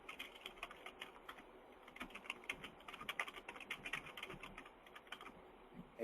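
Fingers type on a computer keyboard to enter a note in an online cart system, a quiet, uneven run of soft key clicks in quick bursts with no talking.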